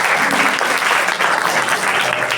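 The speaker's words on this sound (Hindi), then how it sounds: "इनके साथ साथ पूज्य भाभी सीमा जी के लिए भी जोरदार ताली बजाओ।" Audience applause at an Arya Samaj annual gathering in Noida, a steady, dense wash of clapping from a large crowd, even and continuous throughout.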